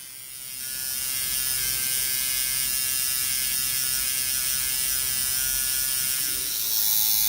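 Electric tattoo shading machine buzzes steadily and continuously while filling in a black-and-grey shaded tattoo, a close, even drone with no talking.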